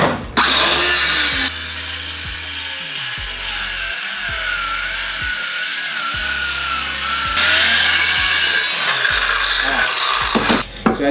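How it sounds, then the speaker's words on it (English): A Ryobi entry-level circular saw cuts through a regular 2x4 of lumber, its motor spinning up loudly and then whining and bogging down as the blade works through the wood, with the pitch rising again as it frees. "I was able to cut through regular 2x lumber with the saw."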